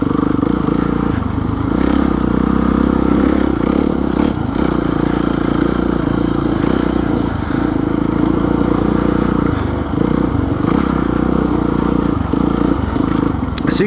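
Motorcycle riding on a rocky trail, its engine droning steadily and loud throughout with shifts in revs and some clattering over the terrain.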